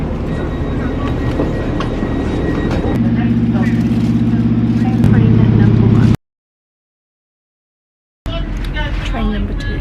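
Steady low rumble of a moving train carriage with rhythmic rolling noise, a brief gap of silence, then the ride resumes; faint voices in the background.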